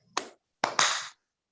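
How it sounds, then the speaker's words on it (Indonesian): Three sharp hand claps at a school parents' information session: one single clap, a pause, then two quick claps in close succession, crisp and near with no talking. "Terakhir tepuk tangan."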